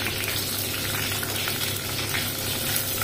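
Garlic, green chillies and onion fry steadily in hot oil in a pan, a dense continuous sizzle that holds an even level throughout with no voices.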